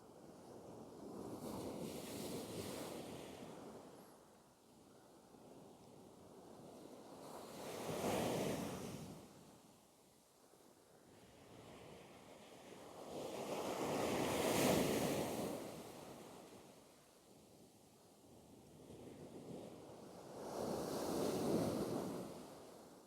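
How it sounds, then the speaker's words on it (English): Big ocean waves break on a beach in Holderness in the UK. Four slow rolling surges swell and fade with wind rushing across the microphone, and no voices are heard. "Here comes the big waves again."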